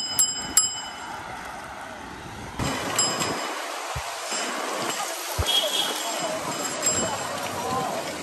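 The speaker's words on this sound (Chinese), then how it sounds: "装个这个铃铛吧。" Bicycle bell rung in quick bright dings near the start and again later, close and clear over outdoor street noise, with people talking.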